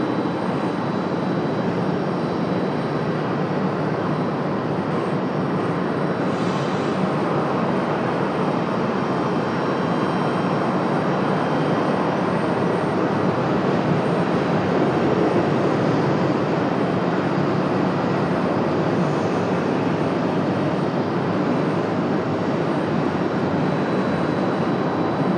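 A jet airliner's engines roar steadily and loudly at Raleigh-Durham International Airport, a continuous broad whooshing drone with no talk over it.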